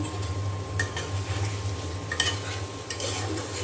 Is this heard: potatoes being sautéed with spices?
yes